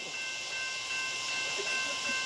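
Southbound Amtrak 53 passenger train passing Selma Smithfield Station on track 2, a steady rushing hiss with sustained high whining tones, fairly loud and unbroken, no talking over it.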